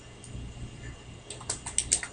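Computer keyboard keys clicking in short bursts, a few faint taps early then a quick cluster of sharper, closer keystrokes toward the end.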